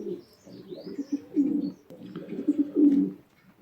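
Pigeons coo steadily and close by in a loft of show birds, low throaty rolling calls overlapping in a continuous murmur, with a few faint chirps above and no talking.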